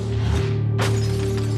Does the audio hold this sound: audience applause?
no